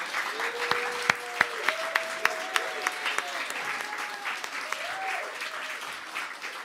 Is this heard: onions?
no